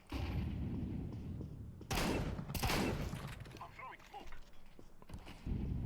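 Shotgun blasts in the game Counter-Strike 2, two loud close bursts followed by a few fainter shots, with game noise and talk mixed in.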